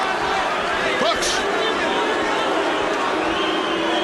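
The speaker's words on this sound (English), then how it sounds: "Crowd, of course, there's a hint of booing" Boxing arena crowd at a home-favoured title fight: a steady, loud roar of chatter and cheering with a faint undertone of booing, and a commentator talking over it.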